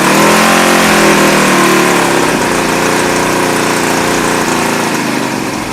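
A 1975 Honda CB200T twin motorcycle engine runs close by, a loud, rough, busy mechanical idle with a slight rev settling early on, then holding steady throughout.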